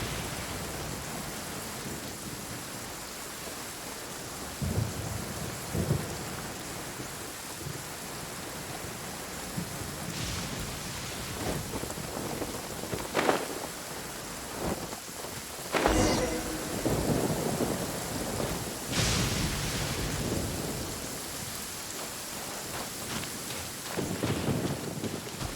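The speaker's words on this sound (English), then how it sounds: "Where'd this rain come from?" Steady rain and a rolling thunderstorm in the game Genshin Impact, with several loud thunder cracks and rumbles over a constant hiss of rainfall, close and enveloping, with no voices.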